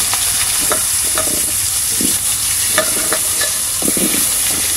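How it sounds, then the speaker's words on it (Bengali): Potatoes fry in hot oil while being stirred, a constant sizzle broken by repeated scraping and clacking strokes of a spatula against the pan. "আলুগুলো ভেজে নেব"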